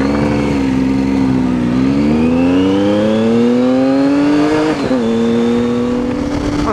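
Triumph Street Triple and Ducati 959 Panigale motorcycles riding on a quiet early-morning country road near Bath, a loud close engine note rising steadily through the gears with a brief dip at a shift, running continuously.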